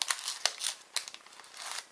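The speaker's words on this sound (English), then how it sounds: "I'm going to bring in my little craft shears to go along with that because we're going to cut these" Small craft shears snipping the ends off paper Christmas leaf prints, giving a few sharp crisp cuts among light paper crinkling, close and fairly quiet with no talk.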